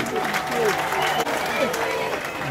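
An audience applauds and cheers at a UDPS party congress, dense steady clapping with crowd voices spread throughout, a loud hall ambience with a speaker talking over it.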